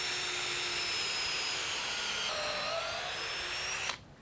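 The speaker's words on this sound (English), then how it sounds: "We're just going to put a little pilot hole in there to make screwing this little guy in easier." Power drill boring a pilot hole into a wooden beam while building a concrete hanging basket, a steady loud whine running nearly four seconds alone before cutting off abruptly.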